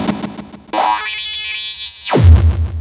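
Extratone hardcore music at around 15,000 BPM, heard as a loud, continuous buzzing synthetic tone that sweeps upward and holds before dropping into a low rumble, with no separate drum hits discernible.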